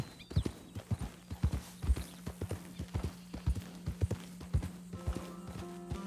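Horse hooves while riding in Red Dead Redemption 2: steady, close clip-clop beats at a walking pace, with a brief whinny and a low steady hum beneath the rhythm.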